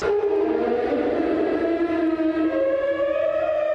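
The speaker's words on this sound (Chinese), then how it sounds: "就是火灾的警报器。" A loud, wailing fire alarm siren at a junior high school in Taipei sounds continuously through the night, its pitch sliding slowly up and down, steady and unbroken throughout.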